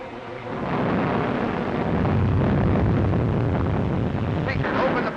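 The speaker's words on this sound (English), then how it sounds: "Looks like a storm" Thunderstorm with heavy rain at sea around a life raft: steady, loud broadband roar of wind and rain with rumbling thunder, building up in the first second and continuing throughout.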